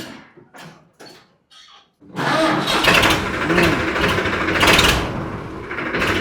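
A Swaraj 963 tractor's diesel engine cranks and catches after two seconds of quiet shuffling, then runs loud and rough nearby, rising once in a short rev before settling into a steady chugging idle.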